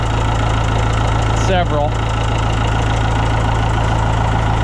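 An old tractor engine idles with a steady, loud, low knocking drone, with a person talking briefly over it.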